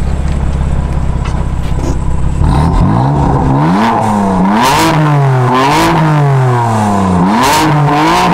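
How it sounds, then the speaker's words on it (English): A BMW car exhaust, from a 435i or M4 build, revs up and down repeatedly, its rising and falling engine note loud and close. "let me get some exhaust rev"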